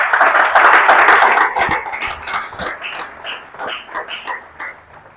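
A church congregation claps for the King during a sermon, loud dense applause at first that thins into scattered, uneven claps and fades over about five seconds.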